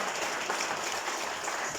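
Audience applause at the AVA Technopark inauguration, a dense steady wash of many hands clapping throughout, loud and unbroken.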